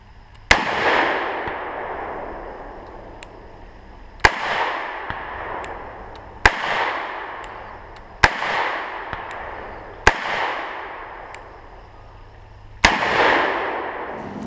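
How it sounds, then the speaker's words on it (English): Six heavy gunshots from a Ruger Super Redhawk revolver firing 454 Casull rounds, each a sharp crack with a long rolling echo, spaced a couple of seconds apart outdoors, no talk. "I'm going to shoot 3 or 4 of these 454 rounds just to see how crazy that round is"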